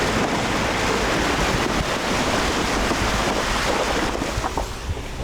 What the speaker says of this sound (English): Are we gonna drive through this river?